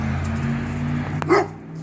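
A black dog barks once sharply near the middle, a short close yelp standing out over a steady low hum.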